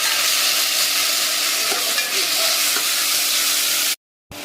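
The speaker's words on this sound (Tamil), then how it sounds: "ஒரு பெரிய தக்காளியை பொடியை கட் பண்ணி வச்சுருக்கேன். இதையும் அதில் போட்டு வதக்கலாம்." Chopped tomato and onion sauté in a hot pan for a tamarind gravy, giving a loud steady sizzle with faint stirring scrapes that cuts off abruptly near the end.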